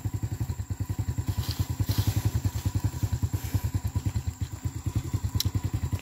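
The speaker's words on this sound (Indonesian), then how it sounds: "Ini motor sehari-hari ya." An everyday motorbike running at a palm oil plantation in Malaysia, its engine putting out a fast, even, close thumping pulse that holds steady throughout.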